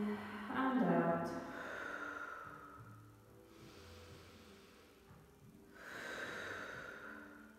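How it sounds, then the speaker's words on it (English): Slow, deep breaths in and out during a yoga back stretch, soft and close, with a long airy inhale and exhale over a quiet room hum. "Deep breath in and out."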